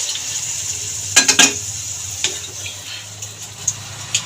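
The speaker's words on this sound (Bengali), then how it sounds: "এবার আমি পরিমাণ মতন জল দিয়ে দেবো।" Water is poured into a hot pot of fried vegetables and chicken for a chicken stew, bringing a bubbling sizzle with a few sharp clinks of utensil on metal near the start and scattered taps after.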